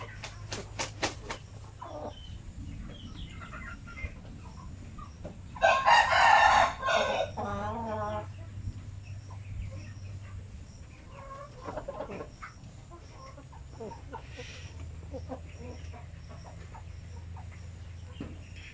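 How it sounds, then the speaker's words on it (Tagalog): A Shamo Aseel gamecock crows once at mid-distance, a loud drawn-out cock-a-doodle-doo standing out over quiet farmyard background with a few faint clucks and scattered bird calls. "naisip ko na kulang ako ng rooster dito"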